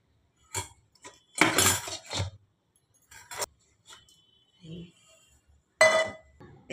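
A freshly baked, still-hot palm cake is turned out of its baking pan, giving a few separate metallic clinks and knocks with quiet gaps between them, close and moderately loud.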